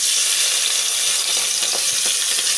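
Onions frying in hot oil give a steady, close, dense sizzling hiss throughout, with occasional faint crackles and no voices.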